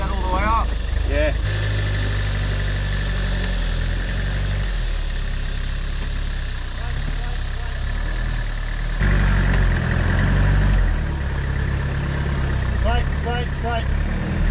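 A Toyota 4Runner 2.4 turbo diesel, a first-generation model with a live front axle, idles and rumbles in 4WD on an off-road trail. The engine drones steadily and loudly throughout, and people talk over it.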